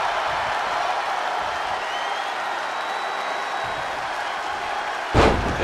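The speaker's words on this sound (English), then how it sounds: "The WWE Universe is showing their appreciation for the action they're seeing." A steady, dense roar of crowd applause fills a WWE 2K20 wrestling arena during a Samoa Joe and The Rock versus The Undertaker and Seth Rollins tag match, ending in a sudden loud slam.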